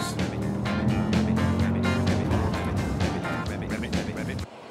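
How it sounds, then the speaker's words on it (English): BMW's twin-turbo petrol V12 car is driven sideways around a track, its engine a loud, sustained roar with a broad, shifting tone under commentary voices, cutting off abruptly near the end. "BMW's first petrol V12 with two turbos"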